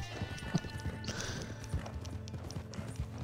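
A plain, no-name Indian horse's hooves clip-clop steadily in Red Dead Online, a close, even trotting rhythm of hoof strikes over a busy game soundscape, with no talking.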